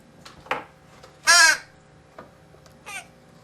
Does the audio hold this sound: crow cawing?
yes